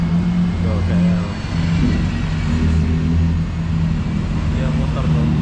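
A motorcycle rides along a busy city-centre street in Malaysia at night, its engine rumble blending into steady traffic noise and staying fairly close throughout.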